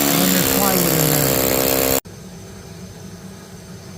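Hammer drill boring loudly through a solid wall, a harsh continuous grinding whine close by that cuts off abruptly partway through, leaving a quieter background hum.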